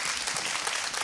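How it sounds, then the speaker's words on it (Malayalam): Audience applause for young dancers on a junior singing talent show, a dense, steady wash of clapping filling the whole moment at even loudness. "അത് അവർക്കും കൊടുക്കണ ഒരു കയ്യടി കേട്ടോ"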